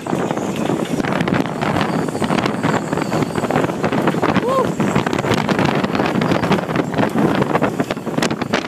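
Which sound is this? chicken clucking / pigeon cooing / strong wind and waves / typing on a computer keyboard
strong wind and waves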